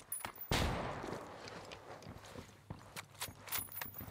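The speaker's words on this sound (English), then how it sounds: "Throwing a flashbang." A flashbang grenade detonates in Ghost Recon Wildlands with one sharp, loud burst that fades into a hiss, followed by scattered light clicks and thuds.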